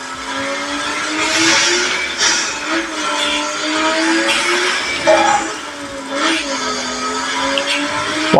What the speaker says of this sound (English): listen to the engine noise